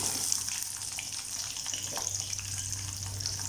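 Peeled, cut small onions with curry leaves sautéing in oil for a Tamil appalam kulambu, a steady soft sizzle with a faint low hum underneath, no talking.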